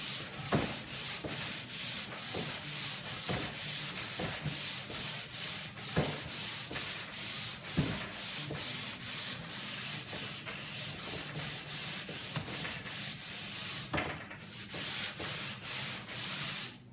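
Wood being sanded up close, a steady rasping scrub in regular back-and-forth strokes that continues without pause.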